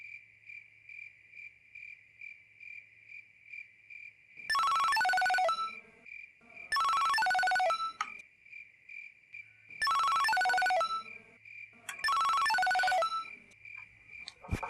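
A phone ringtone plays four times in short melodic bursts, separated by pauses, over a steady high electronic tone.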